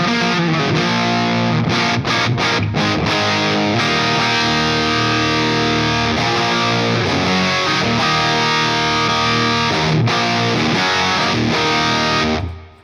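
Fuzzy, farty distorted electric guitar through a Universal Audio effects pedal, played as loud continuous chords and riffs with a few brief choppy breaks, alone without talk, cutting off at the end.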